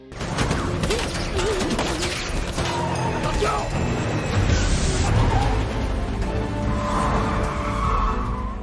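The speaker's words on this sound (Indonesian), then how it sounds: "terjadilah aksi kejar-kejaran beserta tembak-tembakan" Film car chase with screeching tire skids, roaring engines and bursts of gunfire overlapping in a continuous loud, chaotic mix, with voices heard among the action.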